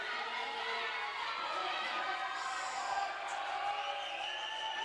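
Spectators cheering at a college volleyball match between Alaska and FSC, a sustained mass of shouts and whoops from a crowd on its feet, loud but diffuse and continuing throughout.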